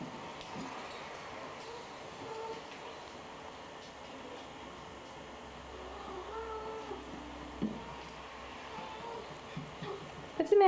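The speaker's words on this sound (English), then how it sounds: "What's the matter, kitty?" Several small kittens meow faintly indoors, giving scattered short mews over a quiet room, with a louder thump or two near the end.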